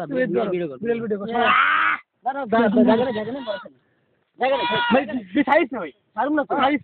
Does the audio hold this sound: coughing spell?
no